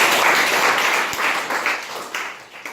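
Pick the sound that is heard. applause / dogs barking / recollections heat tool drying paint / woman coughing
applause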